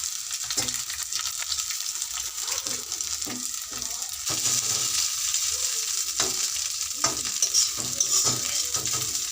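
Maggi noodles with egg and potato frying and being stirred in a pan, a steady soft sizzle broken by scraping stirring strokes, close and moderately loud with no talk.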